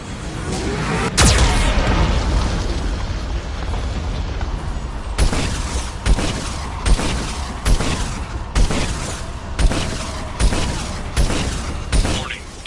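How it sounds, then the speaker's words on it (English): A Geth cannon in the video game Mass Effect fires, with a big boom followed by a series of heavy, evenly spaced blasts that ring out loud against a droning mechanical background. "Warning, the VI infection has assumed control of the Geth cannon."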